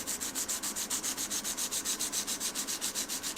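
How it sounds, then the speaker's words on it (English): Scandi grind knife sharpened by hand, each stroke across the stone giving a rhythmic scraping hiss in a steady repeated beat of about six strokes a second, close and continuous with no voices. "the easiest method to sharpen a knife by hand"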